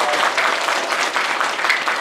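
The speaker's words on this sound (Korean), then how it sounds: "박수가 너무 작잖아요." Audience applause at a book concert and publication celebration in Sejong, a steady two-second wash of clapping from a crowd, moderately loud and even throughout, with no talk over it.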